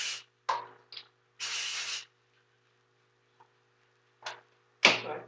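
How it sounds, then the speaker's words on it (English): Secret spray deodorant hisses from an aerosol can in several bursts, short puffs and one longer two-second spray, close and fairly loud, with quiet gaps between. "So I'm gonna be using my Secret Spray deodorant."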